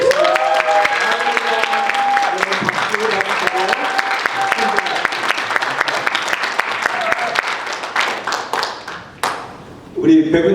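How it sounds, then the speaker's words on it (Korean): Church congregation applauding at a whole-church retreat service in Istanbul, a sustained dense burst of clapping with a voice and some tones over it, thinning out near the end. "박수를 보내겠습니다."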